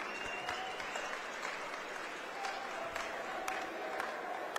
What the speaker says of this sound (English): A big round of applause for both fighters.